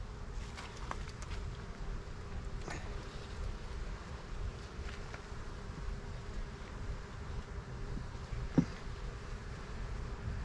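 Honeybees from a swarm colony buzz during a hive inspection as frames are slowly pushed back together, a steady low insect hum with faint clicks and handling noises, close and continuous.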